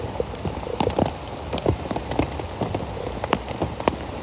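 Heavy rain falls on a hiking trail on Kabaragala mountain, drops pattering and splashing nearby in an irregular, dense spatter, some hits sharper and louder, against a constant wet hiss.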